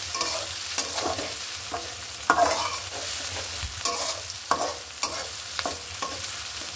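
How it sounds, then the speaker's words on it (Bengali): Cinnamon sticks and cardamom pods fry in a pan with a continuous soft sizzle, punctuated by irregular clinks and scrapes of a stirring spoon, close-up and moderately quiet, no voices. "এটা আমি ভালো করে এখন ভেজে নেব।"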